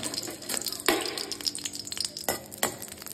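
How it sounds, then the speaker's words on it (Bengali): Oil and chili heating in a pan for frying, with a soft sizzle broken by a few sharp stirring scrapes and clatters, close and moderately quiet. "আর একটু তেল লঙ্কা গরম করে নিচ্ছি"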